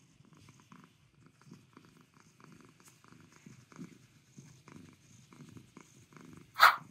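A female cat purrs softly and steadily in close, rhythmic breaths, ending with a brief louder burst near the end.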